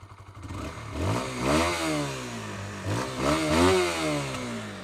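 A 2015 Honda CBR 125R motorcycle engine idles and is revved twice, each rev rising to a high rasping whine and falling back, close and clear with no talk.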